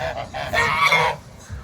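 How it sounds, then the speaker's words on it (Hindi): Ducks in a Russian village calling loudly, a short burst of harsh honking quacks close by, overlapping calls lasting about a second and then fading. "जो जहाँ तक इनकी आवाज़ आ रही है ना वहाँ तक सारी बत्तख चिल्लाने लग गई है।"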